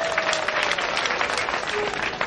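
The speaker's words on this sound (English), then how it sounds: "Shall we give you a round of applause again?" An audience at a cheque presentation for local government loan beneficiaries applauds in a dense, even burst of clapping, fairly close and sustained, with a faint tonal hum running underneath.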